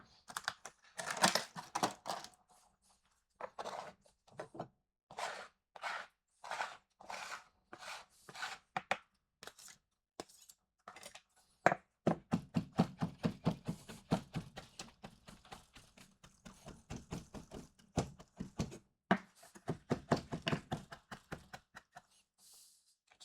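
A knife chops food on a board in quick bursts of sharp, close taps, fast rhythmic runs broken by short pauses, with a denser rapid stretch midway and no talking.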